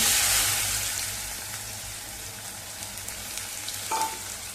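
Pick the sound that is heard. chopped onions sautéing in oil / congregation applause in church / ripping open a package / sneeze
chopped onions sautéing in oil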